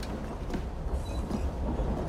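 A steam locomotive in Assassin's Creed Syndicate rumbles steadily up close, a dense low mechanical roar with faint clanks riding over it and no pauses.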